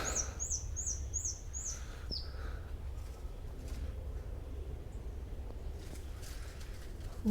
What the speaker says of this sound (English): Some sort of little finch up there.